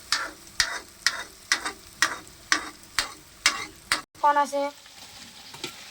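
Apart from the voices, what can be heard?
potatoes frying and being stirred in pan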